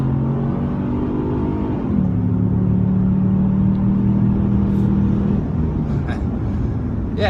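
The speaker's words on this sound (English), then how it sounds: "When you hit it and you hear that V6 engine, it definitely sounds good." A 2016 Ford Explorer Sport with a 3.5L EcoBoost twin-turbo V6 accelerates on an open road, a steady engine drone that shifts pitch partway through, heard from inside the cabin.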